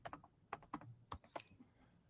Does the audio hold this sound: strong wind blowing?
no